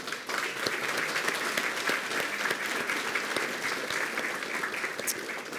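Steady round of applause from the audience at a school board meeting honoring students, many hands clapping evenly at moderate volume throughout.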